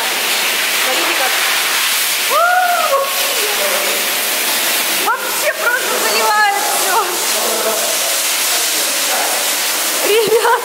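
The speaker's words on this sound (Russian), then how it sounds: "Еще пошла вода." Water pours and sloshes steadily into a compartment during a naval damage-control training drill at a Nakhimov naval school in Crimea, a continuous loud rush with shouting voices cutting in over it.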